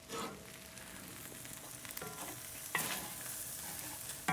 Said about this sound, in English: So we'll let this simmer down a little bit